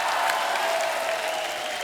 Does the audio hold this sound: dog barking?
no